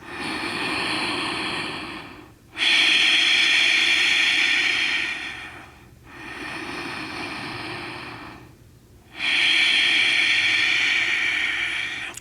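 Deep yoga breathing, with slow, loud, breathy inhales and exhales alternating in long drawn-out waves, close to the listener and with no talking.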